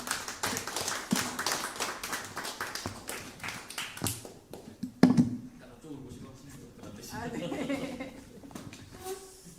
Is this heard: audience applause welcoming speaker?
yes